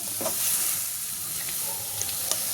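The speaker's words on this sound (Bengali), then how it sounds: "ভালো করে নাড়াচাড়া করে একটু চাপা দিয়ে রাখবো।" Cauliflower curry sizzles steadily in a frying pan as it is stirred, with a continuous hiss and a few soft scraping clicks of the spoon against the pan, close and fairly quiet, with no talk.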